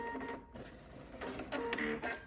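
A sewing machine works on appliqué pieces in short mechanical bursts of whirring and clicking, close by and moderately quiet, with a brief pause before it starts up again.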